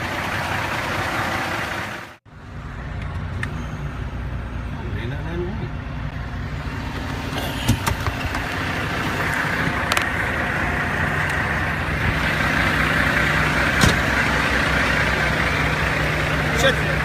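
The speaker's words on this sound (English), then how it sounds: "Shut your truck down, sir. Turn your truck off." A truck engine idles as a steady low rumble throughout, with a brief dropout near the start and a few clanks, while people talk over it.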